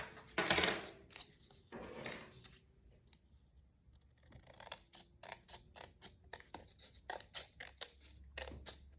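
Scissors snip through card stock while trimming a folded tunnel card, with a series of short, sharp cuts and light paper rustles, close and fairly quiet.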